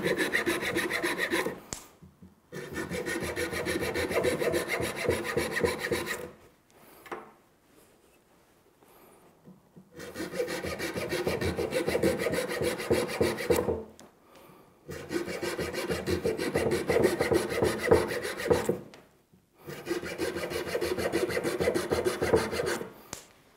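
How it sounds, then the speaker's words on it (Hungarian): A bone saw cuts an elder branch in long rhythmic rasping strokes, working in four sustained bursts separated by short pauses. "Fűrészelni, ilyen erőteljesebb csontfűrész szoktam használni."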